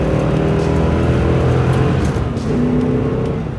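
A 1996 C4 Corvette with the LT4 pushrod V8 and manual gearbox revs hard, giving a loud, dense, rumbling roar that holds high and steady with a slight dip partway through.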